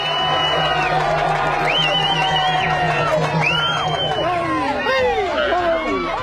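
Villagers cheer electricity board workers after Cyclone Gaja, a dense, continuous crowd of overlapping shouts, whoops and rising calls, loud and close, with voices chattering throughout.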